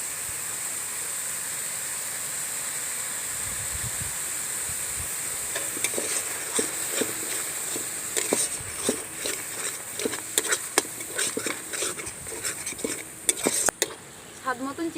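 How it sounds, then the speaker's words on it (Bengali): Poppy seed paste being stirred into frying masala of cumin powder and a splash of water in a pan for prawn malai curry, a steady sizzle with scraping spoon strokes growing busier and more clattery in the second half. "এবার পোস্ত বাটা দিয়ে দিচ্ছি।"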